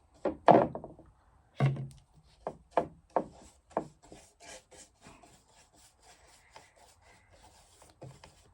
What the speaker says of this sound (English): position the fabric on there and then rub the stuff in over it